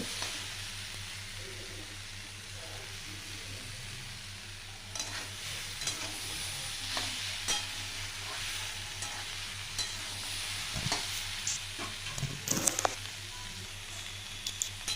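Cauliflower and soybeans sautéed together in a pan, a steady frying sizzle with a low background hum as a spatula repeatedly scrapes and stirs, growing busier toward the end, close and with no talking.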